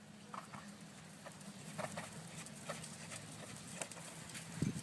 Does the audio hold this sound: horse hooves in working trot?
yes